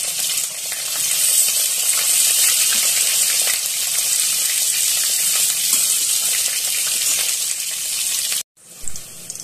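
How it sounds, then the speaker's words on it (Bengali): Brinjal pieces go into hot oil with tempering spices for a Bengali hilsa curry, giving a loud continuous close sizzle that cuts off abruptly near the end before a brief softer burst. "আমি এবার এর মধ্যে বেগুনগুলো দিয়ে দেবো।"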